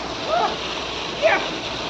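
Water pumped from an old, nearly full village well, splashing and gurgling down nearby in a steady rush with two brief surges, heard close and fairly loud.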